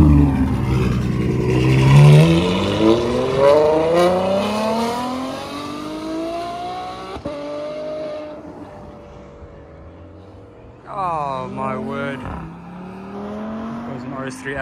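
Supercars at the Cars & Croissants meet in Cape Town rev and accelerate past, engine notes sweeping upward through the gears, then a second car snarls by with a sharp rising rev near the end; a voice talks over the engines.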